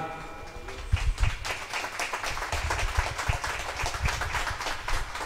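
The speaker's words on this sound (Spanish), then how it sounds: "más fuerte el aplauso" Church congregation applauding at a thanksgiving gathering in Tierra Linda, Sololá: a dense, steady wash of clapping with a few louder bursts, fairly close and sustained throughout.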